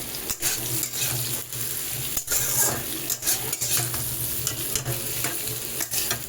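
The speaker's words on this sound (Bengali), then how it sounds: "সেই কাঁচা লঙ্কাগুলোকেও আমি এতে দিয়ে দিচ্ছি" Slit green chillies go into a thin Bengali rohu fish curry with vegetables while it is stirred, giving a steady low simmer and sizzle with repeated scraping strokes and faint utensil clinks throughout, with no voices.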